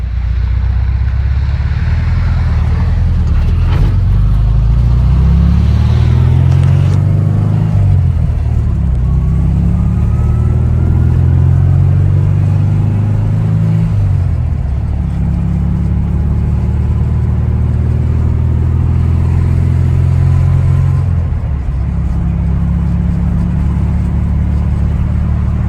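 A 1962 Porsche 356 Notchback engine runs loud and close while the car drives, revving up through several gears with distinct shift breaks, a steady rumbling drone throughout and no talking.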